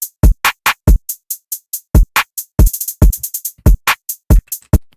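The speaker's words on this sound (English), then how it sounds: "Drums alone sound like this" Trap drums play on their own: sharp kicks and snares with crisp hats in a stuttering, syncopated pattern, punchy and dry with silence between hits.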